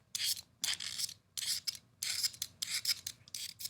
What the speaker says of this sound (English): I can use the utility knife